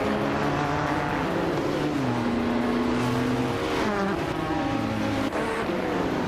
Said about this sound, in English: driving a 2014 Audi R18 e-tron Quattro in the LMP1 class